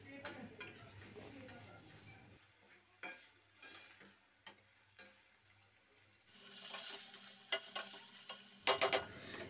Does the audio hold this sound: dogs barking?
no